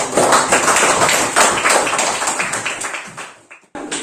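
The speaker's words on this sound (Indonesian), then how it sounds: "Tepuk tangan buat teman-teman kita berdua" Students in a classroom applaud two classmates, a dense burst of many hands clapping close by that gradually thins out and fades toward the end.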